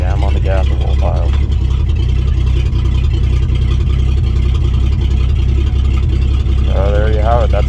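A 1966 Chevrolet C10 engine idles during warm-up with a steady, loud low rumble, while someone talks over it at the start and again near the end.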